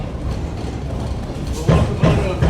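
Train ride at the Ravenna Railroad Festival, a steady rumble of rolling cars with rhythmic clickety-clack thumps over rail joints toward the end, close and moderately loud.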